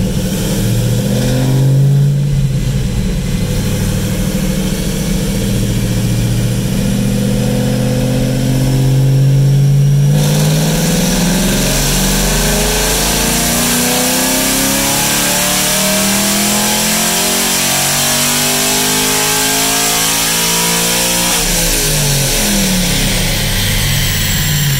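Chevrolet Camaro SS strapped to a chassis dyno on a hot day revs hard through a full pull, loud and climbing steadily, then drops back toward a steady idle near the end.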